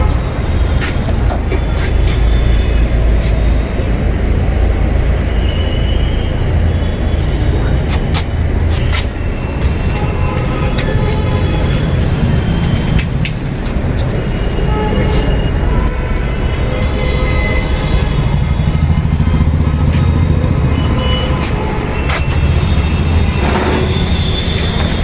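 A portable AC vacuum pump evacuating a split air conditioner's lines through a hose to the indoor unit runs with a loud, steady mechanical drone and rattle for the whole stretch, a few faint clicks and rustles over it.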